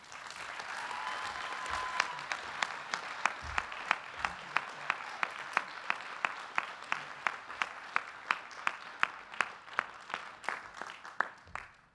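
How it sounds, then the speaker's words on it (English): Audience applauding at a Columbia University Graduate School of Arts and Sciences 2019 PhD Class Day ceremony, steady moderate clapping from a large hall crowd with sharp individual claps standing out, continuing for the whole stretch before tapering. "We applaud you all."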